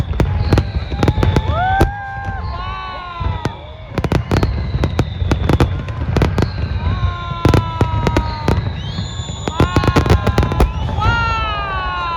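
Honda Celebration of Light fireworks over Vancouver burst in rapid repeated bangs, with whistling rockets rising between explosions and crowd voices underneath throughout.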